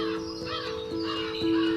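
A crow caws several times in short rasping calls over a steady tonal hum, fairly close and alone without talk.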